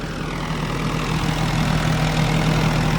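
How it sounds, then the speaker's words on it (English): A 2019 Bobcat E42 mini excavator's engine runs at a steady idle nearby, a loud, even, low rumble with no breaks. "Engine seems to run just fine."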